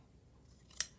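A single close snip of scissors cutting through lace trim, one short crisp cut after quiet.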